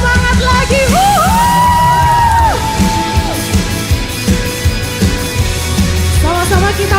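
A church congregation shouts and whoops together during a worship service, loud crowd cheering with rising yells over a continuous roar, swelling again near the end.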